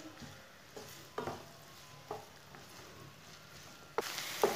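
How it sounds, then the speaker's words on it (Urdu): Finely chopped onions frying in a pan for a semolina snack, a soft steady sizzle broken by a few spoon stirs and scrapes, with a louder clatter near the end, no voices. "دو باریک کٹے ہوئے پیاز ڈال لیں گے، پیاز کو دو تین منٹ کے لیے بھون لیں گے"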